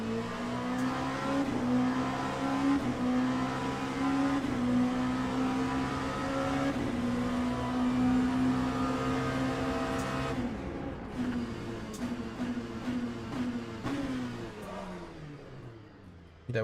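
An LMP2 prototype race car in Le Mans Ultimate at Bahrain, its engine droning steadily at high revs with shifting pitch through a long run before dropping off near the end, loud and close from the cockpit.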